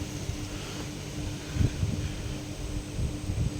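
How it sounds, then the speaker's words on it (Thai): Strong wind blows at a home in Noen on a dry day with no rain, a steady rushing noise buffeting the microphone, with louder gusts swelling midway and again near the end. "แต่ลมแรงมากดูฮะ"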